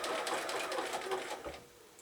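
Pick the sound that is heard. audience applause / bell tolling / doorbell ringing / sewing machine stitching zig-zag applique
sewing machine stitching zig-zag applique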